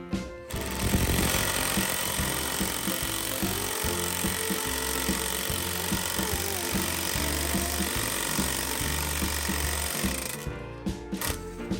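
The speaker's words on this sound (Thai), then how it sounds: "ผมก็จะเลือกใช้เป็นไขควงกระแทกไร้สายครับ" A cordless impact driver drives bolts into steel plate in a DIY project, giving loud continuous rapid hammering bursts that run for several seconds before stopping near the end.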